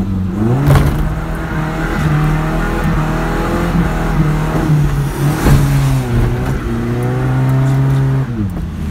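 A Toyota Hilux's engine hums steadily from inside the cab while driving, with the pitch rising and falling through gear changes and a continuous road rumble underneath, loud and close throughout.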